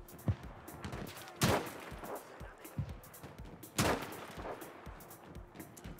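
Gunfire in the PC shooter Battlefield V, with sharp single shots and a few heavier cracks scattered irregularly over a low background of distant battle noise.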